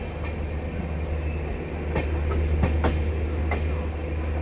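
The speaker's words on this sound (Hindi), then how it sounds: "टुंडला जंक्शन पहुंच रही है अपनी ट्रेन" A Prayagraj–Delhi special express train pulls into Tundla Junction with a continuous heavy rumble, while sharp rail clicks and brief metallic squeals cut through in the second half.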